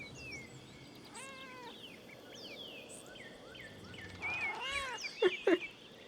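A cat in the video game Pentiment gives a couple of meows, a softer call early and a louder, sharper pair near the end, over a quiet ambient bed with faint bird and insect sounds.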